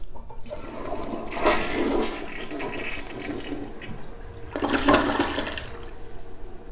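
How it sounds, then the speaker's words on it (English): A porcelain toilet flushes after being cleared with a toilet auger: two strong surges of rushing, gurgling water, the second near the end, with quieter refilling water in between. The flush sounds close by. "you can go ahead and give it a flush"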